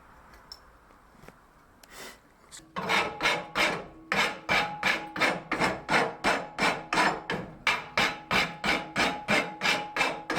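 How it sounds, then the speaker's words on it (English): A farrier rasp strokes hot wrought iron dividers in a steady, evenly spaced series of about twenty loud, close rasping passes, following a few scattered knocks and quieter scraping at the start. "rasping is usually done hot. I use a hot rasp for many things"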